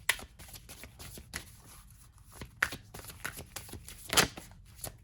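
Glossy oracle cards being riffle-shuffled by hand, a run of crisp slapping flutters and soft card clicks close up, with a sharp burst near the end and no talk over it.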